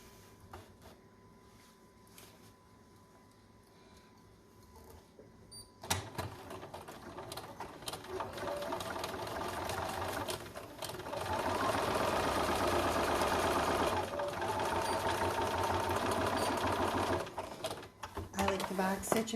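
A sewing machine stitches a concealed carry belly band, first quiet, then a loud, sustained rapid mechanical whirr and clatter from midway on, with a person talking nearby.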